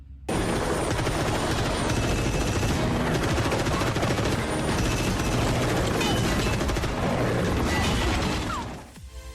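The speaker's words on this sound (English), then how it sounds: "What was he firing there? It looks like an M60." Movie scene with an M60 machine gun firing at a Huey helicopter, a loud unbroken roar of automatic fire mixed with the thudding rotor and bullet impacts, dropping off abruptly near the end.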